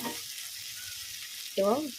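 Drumsticks and spices in a frying pan sizzle softly while they are stirred, a brief kitchen sound with a short voice near the end.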